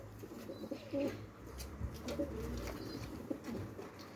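Faint soft cooing from white Mardin pigeons, a few low repeated coos over quiet outdoor ambience.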